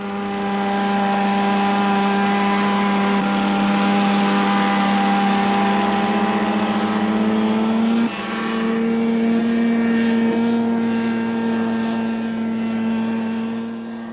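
A Pindair Skima 4 hovercraft engine drones steadily with a strong tonal hum, shifting pitch slightly midway, loud and continuous.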